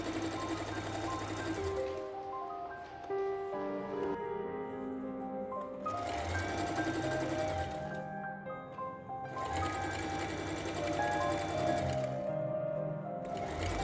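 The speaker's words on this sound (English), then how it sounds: "I pull as much as the fabric can pull and sew using the straight stitch." A sewing machine runs a straight stitch on stretchy swimsuit fabric, whirring steadily in three long runs with short pauses between, close and fairly quiet.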